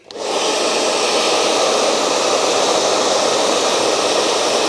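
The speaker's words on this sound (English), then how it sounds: "So we went with a hairdryer, and it's doing the job" A hair dryer heating a car exhaust pipe switches on and runs with a loud, steady, close airy whir that holds unchanged throughout, with no talking.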